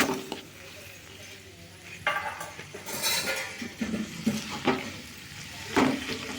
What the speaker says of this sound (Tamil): இப்போ இதையும் சேர்த்து எல்லாம் ஒரு வதக்குறோம்.